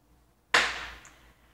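A single sharp firework bang goes off outdoors, a sudden loud crack that rolls off into a fading rumble over about a second, with a faint small pop in the tail.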